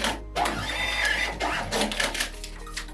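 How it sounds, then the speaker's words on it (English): An online order printing out on a Clover point-of-sale device, a whirring, rattling receipt-printer buzz in short bursts over a steady low hum, faint and close, without any talking. "It gives you a pop-up sound as well."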